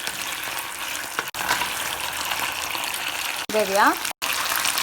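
Eggs and sauce go into a hot grill pan alongside fried pork chops, giving a steady close sizzle and bubbling frying hiss, with a brief spoken remark over it.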